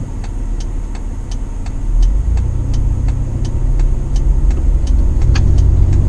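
A Toyota Prado fitted with a Lokka auto locker accelerates hard in medium-speed road traffic, its engine droning low and steady and growing louder partway through, heard from inside the cabin with a faint regular ticking.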